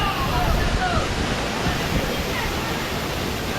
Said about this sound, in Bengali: বন্ধুরা এই ওয়াটারফলসটা কিন্তু বিশাল বড়।